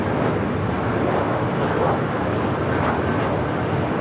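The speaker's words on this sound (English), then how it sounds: "the Frontier A321 coming up from Salt Lake City" A Frontier Airbus A321 jet arriving at LAX from Salt Lake City, producing a loud, steady, broadband engine roar that fills the whole stretch with no breaks, close by, with no speech.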